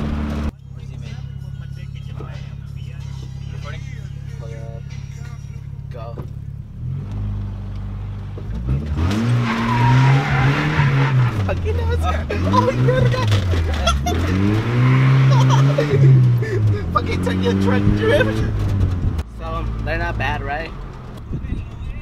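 A lowered truck with street performance shocks idles low, then revs and slides with tires skidding and squealing under a rising, wavering engine roar, loud and close, continuing for most of the stretch.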